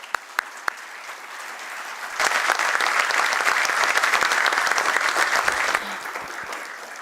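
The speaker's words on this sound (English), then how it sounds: "Give them all a big round of applause." Audience applause at a stock exchange listing ceremony for Brainbees Solutions Limited: a few scattered claps swell into loud sustained clapping from a roomful of people, then taper to lighter applause.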